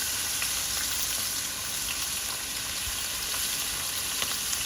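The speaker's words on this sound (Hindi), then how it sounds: "सबसे पहले हम अपने पैन में डालेंगे चिकन।" Chicken frying in a pan with a little oil for a tawa pizza, a dense, even hiss of sizzling fat held steadily throughout the short stretch, with faint pops, no talking.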